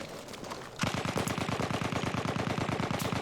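Rapid automatic gunfire from Battlefield 1 multiplayer, a loud steady burst of evenly spaced shots that starts abruptly and hammers on without pause.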